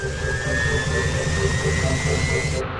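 Jet engines of a 560-ton super jumbo airliner give a steady, loud roar with a thin high whine running through it, continuous for a few seconds before cutting off abruptly.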